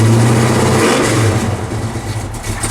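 Pontiac 455 V8 with a Quadrajet carburetor and no choke, revving loudly and close as the throttle is held, then easing toward a rough idle, with no voices.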